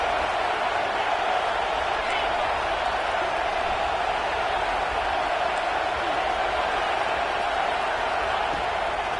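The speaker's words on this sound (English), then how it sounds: "Decibels rising as the crowd gets behind this defense on 3rd down." A football stadium crowd at a USC game roars on third down, a dense, steady wall of noise that holds at full strength throughout with no break.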